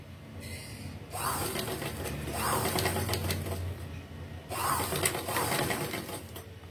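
Domestic sewing machine stitching a rever collar, running in steady mechanical bursts with short pauses between them, close and moderately loud, with no voices.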